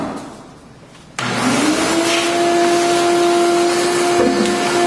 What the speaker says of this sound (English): I need to make sure that I vacuum my station down.